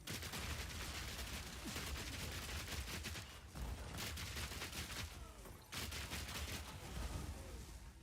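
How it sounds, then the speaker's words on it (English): A dense barrage of explosions from many grenades in the Path of Exile 2 video game, with rapid overlapping blasts and crackles nearly continuous throughout and brief dips between volleys. "That's a lot of grenades."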